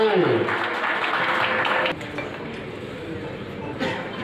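An audience at a Bengali political gathering claps loudly and steadily for about two seconds, then the applause drops to a quieter, scattered patter and swells briefly near the end.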